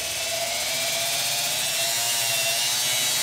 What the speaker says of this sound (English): allow that drum to sand down a little bit. And I think I need to increase my speed.